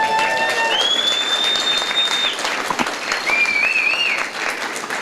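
Audience applause at a union speech for public employees, steady clapping from a crowd filling the hall throughout, with whoops and whistles rising over it.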